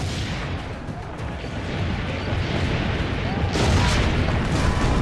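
Cannon fire in the video game Assassin's Creed Brotherhood, a dense rumbling roar of booming blasts building in intensity, with a voice talking over it.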